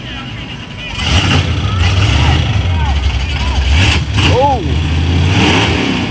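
Muscle car engine roaring at full revs on a nitrous burst during a night drag racing event at Yello Belly: a loud, sustained, rumbling howl that surges and wavers, with a spectator's short exclamation over it.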